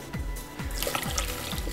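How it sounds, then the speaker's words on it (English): Water poured over pay dirt in a gold pan, sloshing and trickling in repeated low surges roughly every half second, close and steady with no talking. "Let me put more water in."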